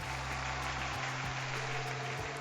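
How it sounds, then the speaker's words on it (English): Continuous applause from a crowd in the video game The Legend of Heroes: Trails to Azure, a dense wash of clapping at steady volume throughout, with no talking. "Let's have a big round of applause for our lovely ladies on stage."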